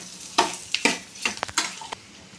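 Bitter gourd stir-fry being stirred in a pan, a series of sharp scraping strokes with a soft sizzle beneath, fairly close and with no voices.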